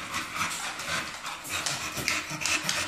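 Dogs in a garage used as a kennel pant and shuffle close by. The breathing is quick and uneven, with soft whimpers and scrabbling mixed in.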